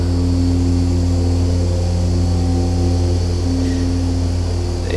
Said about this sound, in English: just to sit in an airplane, listen to the engines